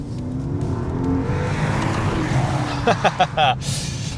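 A 2024 Maserati Ghibli Trofeo's 3.8-litre twin-turbo V8 drones and rises over a steady roar, then several sharp bursts near the end, loud and close.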